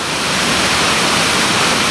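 The Wilczka waterfall at Międzybórz in winter roars as a dense, steady rush of falling water, loud and unbroken throughout.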